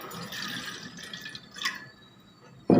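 Water pours into a cooking pot (degchi) set on a gas stove, a steady trickling splash with a few drips, ending in a sudden loud knock.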